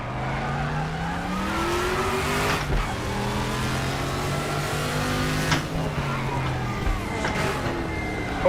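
A Group C or Group 5 race car in a sim racing game at Norisring drives at speed, its engine note rising and dropping through gear changes in a clumsy downshift with gearbox damage, loud and continuous.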